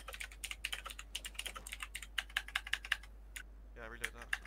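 Rapid clattering keystrokes on a computer keyboard during a PUBG gaming session, a quick irregular run of close, crisp taps that pauses briefly and then resumes with a few more presses.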